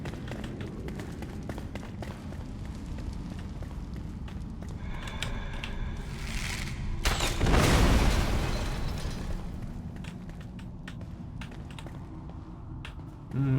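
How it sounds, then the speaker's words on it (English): An explosion in the video game Enshrouded swells into a dull boom midway through, surrounded by steady computer keyboard typing and clicks. "Explosion didn't do much."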